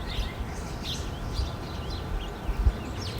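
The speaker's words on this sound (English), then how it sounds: "I just love the sound of the birds chirping." Small birds chirp outdoors on a frozen, cold day, several faint scattered calls above a low background rumble with a few soft thumps.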